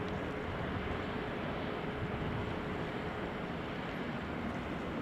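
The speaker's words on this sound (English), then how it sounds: "Right, E2 Embraer 195. Just took off" An Embraer E195-E2 takes off at Amsterdam Schiphol, heard as a faint, distant, steady jet rumble with broad noise and no distinct peaks, and no talking.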